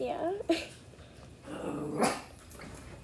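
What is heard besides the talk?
dog barking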